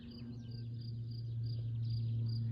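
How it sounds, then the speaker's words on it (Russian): Crickets chirp faintly outdoors on a foggy mountain morning, a thin, steady high trill over a low constant hum, quiet and distant throughout. "Сверчки еще поют."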